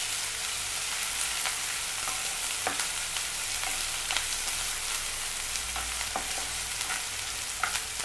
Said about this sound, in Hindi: कटा हुआ प्याज जो है उसे अच्छे से होने दें ब्राउन कलर का